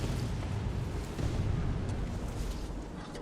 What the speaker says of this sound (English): They're still shooting off their mortars.